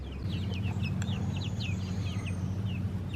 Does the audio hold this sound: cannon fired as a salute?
no